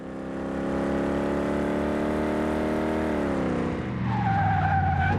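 In Car Mechanic Simulator 2018, a BMW 507 brakes hard and slides sideways. A steady, high engine whine holds, then drops away into a loud, sustained tire screech as the car skids.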